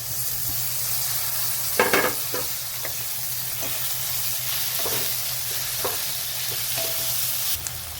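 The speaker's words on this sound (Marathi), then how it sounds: "टोमॅटो पण टाकून घेऊ आपण, टोमॅटोला पण परतून घेऊ।" Tomato and onion sautéing in a pan for dhaba-style paneer bhurji: a steady close frying sizzle runs throughout, with several brief scraping stirs of a spatula against the pan.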